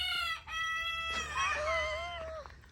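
A rooster named Elvis crows nearby in a strained, wavering cry, one short call and then a long drawn-out crow that ends in a falling note.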